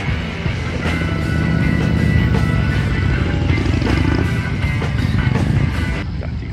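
Vintage vehicles leaving an oldtimer meet roll past in a steady, loud stream of engine rumble, a dense continuous drone with no gaps that eases off slightly near the end.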